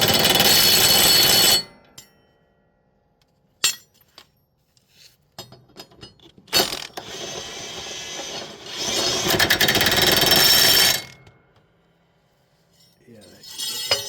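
Impact gun tightening bolts on landscape equipment during pre-season maintenance: a loud burst of buzzing rattle, a long quieter stretch with scattered clanks, then a longer sustained buzzing run before it cuts off.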